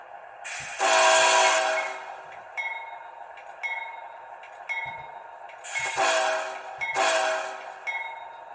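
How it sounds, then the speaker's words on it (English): A model train horn sounds in bursts while a small bell rings repeatedly in short evenly spaced dings, close and clear, with no talking. "as per Canadian rules, bell and horn go together at times"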